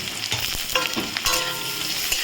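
A small onion frying and being stirred in a pan for lentil and pumpkin-greens cooking, giving a loud, close hissing sizzle with a few quick scraping stir strokes over a brief stretch.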